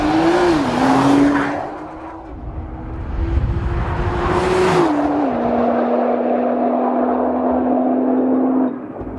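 A 2014 Nissan GT-R Track Pack launches hard under launch control, its engine roaring loudly and climbing through quick gear shifts, with a sustained tyre squeal and no talking.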